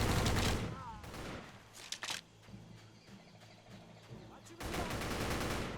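A Type 100 submachine gun fires in a video game village assault, with bursts of shots at the start and the end around a quieter, rumbling middle stretch.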